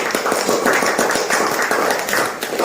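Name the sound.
applause from the audience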